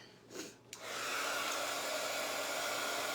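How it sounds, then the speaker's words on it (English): A craft heat tool blows steadily to dry a project, starting after a couple of brief bumps and a click and then holding a loud, constant whooshing airflow until the end. "Let me plug the heat tool back in, because I need that to make this dry."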